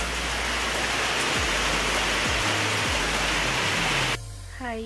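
Steady, loud rain pours down in misty, rainy weather in the hills of Kodaikanal, a dense continuous hiss that drops off abruptly near the end.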